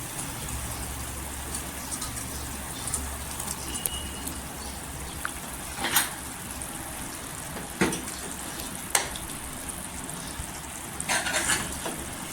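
Masala cooking slowly in a pan over low heat for a soybean dish, a soft steady sizzle and bubbling with a few brief clicks and scrapes, no talking.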